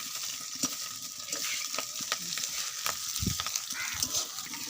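Potatoes, stalks and vegetables fry in a wok for Bengali shukto with a close sizzle, broken by stirring scrapes and several sharp clinks of a utensil against the wok.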